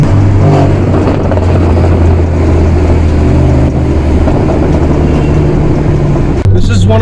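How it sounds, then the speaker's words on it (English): A supercar on its stock exhaust revs and drives on a Mumbai street, a loud, steady engine rumble holding throughout with a brief dip near the end while a person talks over it. "It sounds so good. That's the stock exhaust too."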